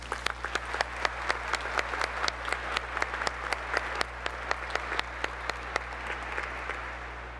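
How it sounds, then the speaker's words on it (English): Applause from the audience at a law school commencement ceremony: many hands clap steadily in a moderately distant hall, with rapid individual claps standing out over a low hum, no talking. "Please join me in a round of applause for President Garvey."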